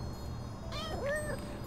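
A cat meows once in the video game Little Kitty Big City, a short rising-and-falling meow of moderate loudness over quiet background music.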